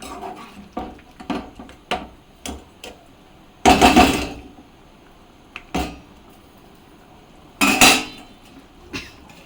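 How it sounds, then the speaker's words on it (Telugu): A metal lid goes onto a pot of mutton curry. Light clinks and taps of cookware lead up to two loud, ringing clanks, close by and with no talking. "మూత వేస్తున్నానండి"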